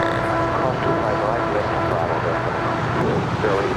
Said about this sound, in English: And that is a 14-year-old 747-400 ER